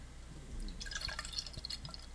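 Beer pours and fizzes into a glass, a soft bubbly trickle with faint drips, quiet and close.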